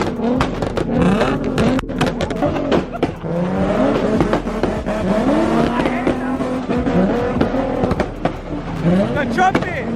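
Cars at a wild street car meet bang away in a 2-step rev battle, engines revving repeatedly in sharp, rising bursts with popping crackles, loud and near, while people shout and talk throughout.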